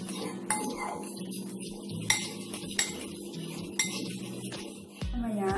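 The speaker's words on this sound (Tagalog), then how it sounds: "So, hahaluin lang natin itong ating sauce." A spoon stirs barbecue sauce for chicken wings in a dish, making close clinks and scrapes against the container in an irregular rhythm, with a few sharper taps along the way.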